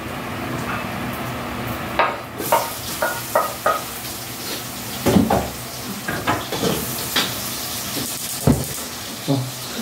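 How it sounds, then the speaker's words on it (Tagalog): Pork humba sautéing in its own rendered fat with onion and garlic, a steady sizzle broken by repeated scraping stirs of a utensil against the pan, close and moderately loud, with brief speech in between. "di na po ako naglagay ng mantika kasi doon na po sa sarili niyang mantika ko binisa"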